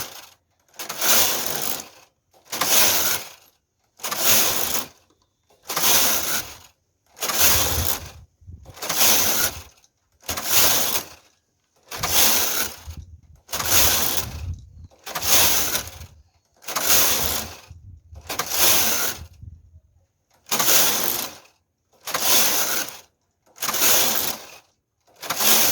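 A knitting machine carriage knitting a tuck pattern, sliding back and forth across the needle bed in about fifteen loud, evenly spaced rasping passes with brief pauses between them.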